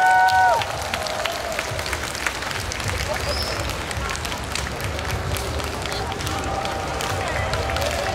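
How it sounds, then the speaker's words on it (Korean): Audience applause at a Dancing Nowon dance event, a dense continuous wash of clapping and crowd noise sustained throughout, with a brief tonal sound at the very start. "박수 보내주시면 좋을 것 같은데요."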